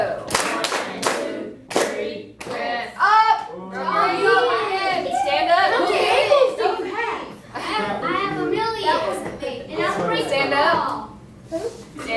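Children in a music class clap rhythmic patterns in short, counted bursts, with a teacher and kids speaking between and over the claps in a lively room.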